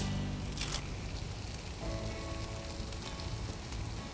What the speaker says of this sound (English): I'm going to start my bacon over here right now